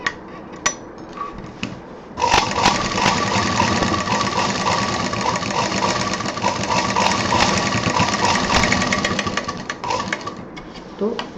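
A sewing machine stitches a handbag seam, running in one steady, loud, rhythmic burst for about nine seconds after a few brief taps and a short start, then stopping.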